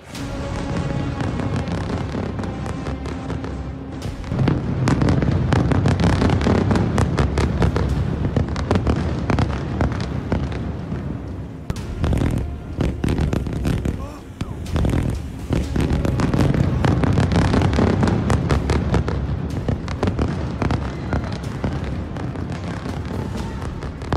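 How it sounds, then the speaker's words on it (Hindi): Dense, continuous rumbling blasts and booms of Israeli shelling in Lebanon pile up almost without pause, loud and heavy with a few brief lulls. "इजराइल ने लेबनान पर एक बार फिर ताबड़तोड़ हमला किया है।"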